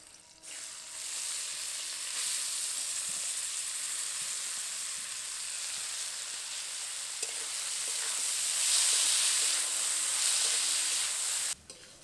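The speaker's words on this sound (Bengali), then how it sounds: "এবার এর মধ্যে ভিজিয়ে রাখা চালটা দিয়ে দেবো" Soaked rice drops into hot oil holding fried cardamom, cloves, cinnamon, cumin and slit green chillies for hilsa pulao, setting off a loud, steady sizzle that swells partway through and stops abruptly near the end.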